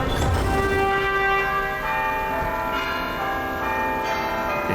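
Bells ringing in the fantasy video game LOTRO, heavy church-like tolls with long ringing tones that overlap and fade, heard loud and alone without any talk.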